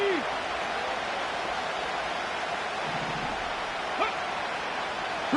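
Stadium crowd roar in the football video game Madden 25 before a 3rd-and-goal play, a steady loud wash of cheering that holds evenly throughout, with faint brief tones rising over it.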